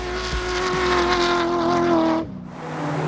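A V8-powered off-road vehicle drives past with a steady, strong engine drone and some tyre noise. The engine tone cuts off sharply partway through, then a quieter engine sound returns.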